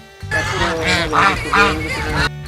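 Domestic geese honk loudly and close up in a continuous overlapping chorus of nasal calls lasting about two seconds.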